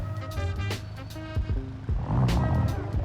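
Drift car engine in the BeamNG driving game revving and shifting, with a harmonic-rich exhaust note rising and falling in short bursts before settling into a louder, rougher drone.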